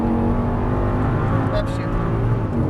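A 525hp Audi R8 V10 accelerates hard at full throttle, a loud, rising engine roar with layered harmonic whine heard from inside the car, continuous for a few seconds.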